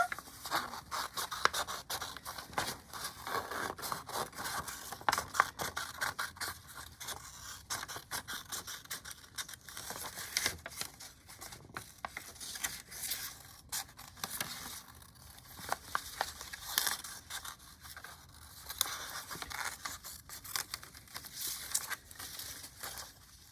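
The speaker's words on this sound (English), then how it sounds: "Cut that last bit rather than tear it." Paper stencil being cut with scissors and torn by hand, a steady run of close, dry scratching and crinkling rustles with brief sharper snips, continuous and fairly quiet with no voices.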